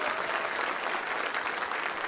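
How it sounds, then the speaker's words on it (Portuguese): A church congregation clapping hands together in worship, a steady, dense patter of many hands at moderate level, continuous and fairly even. "E bata palmas para Jesus. Bata palmas, mais forte."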